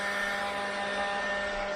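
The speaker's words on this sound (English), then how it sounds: "Using a blower." A leaf blower roars steadily at a Ryze Tello drone, a continuous loud whirring hum that stays even throughout, with no talk.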